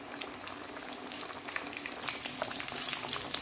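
Fish frying in masala, a soft steady bubbling sizzle with fine crackles that brighten a little midway, close but fairly quiet, with no voices.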